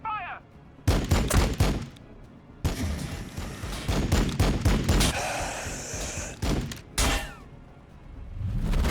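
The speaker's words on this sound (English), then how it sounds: "And I can still fire the bolter" In a Warhammer 40,000 video game battle against Necrons, bolter fire breaks out in loud, rapid bursts of shots with sharp cracks and whooshes, separated by brief pauses.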